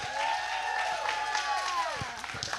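A live-taping audience applauds, with steady, dense clapping and crowd noise filling the whole stretch at moderate loudness and tonal sounds running underneath.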